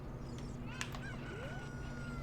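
A chicken in Zelda: Ocarina of Time gives a few short clucks and squawks, faint and fairly close, over a steady hum of game background sound.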